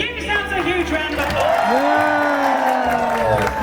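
A crowd aboard a river cruise ship cheering and whooping, with voices rising and sliding in pitch and clapping beneath, loud and close for a few seconds.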